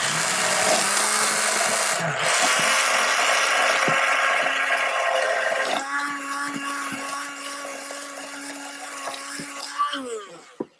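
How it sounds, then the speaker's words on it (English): A steady whirring motor buzz of an immersion blender making homemade mayonnaise, running continuously, shifting pitch partway through as the mixture thickens, then cutting off near the end. "And then start blending with the immersion blender."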